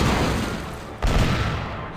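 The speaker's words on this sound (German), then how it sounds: "Schüsse! Mann. Ja, volle Breitseite." A heavy cannon broadside in the pirate video game Monkey Island 3, a dense rumbling roar of gunfire with a fresh burst of booms partway through.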